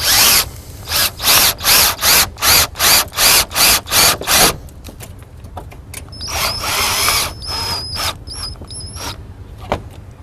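A power drill whirs in nine rapid, even bursts, then runs in a longer, softer grinding stretch with faint squeaks close by, drilling into a towed vehicle.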